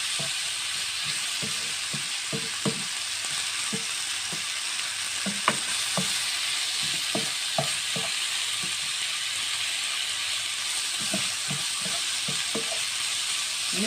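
Chicken frying in a pan with chopped parsley and coriander, sizzling steadily while a utensil scrapes and stirs it in irregular clicks and knocks throughout; no talking.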